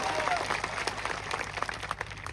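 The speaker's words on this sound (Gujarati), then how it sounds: "એમના માટે જોરદાર તાળીઓ પાડી લો" A crowd at an outdoor political rally in Savli village claps for the police officers on duty, a dense, steady wash of applause at moderate distance that fills the whole stretch without letup.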